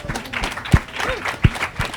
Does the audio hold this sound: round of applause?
yes